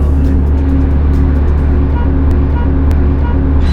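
Nissan GT-R R35 sports car heard from inside while driving: a loud, constant low engine drone and road rumble fill the cabin, with faint clicks and knocks on top and no clear voices.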